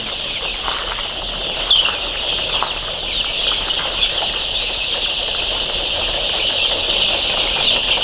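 Many chickens clucking and chattering together in a dense, steady flock of about a hundred chicks, with occasional louder calls rising above the continuous din.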